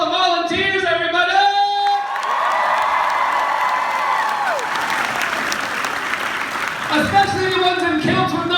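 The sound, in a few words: crowd applause and cheering for signers and volunteers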